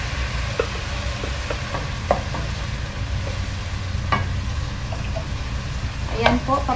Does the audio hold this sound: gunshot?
no